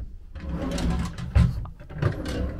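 A bedroom drawer in a static holiday caravan slides open or shut with a brief wooden rumble and a couple of soft knocks, close by and alone.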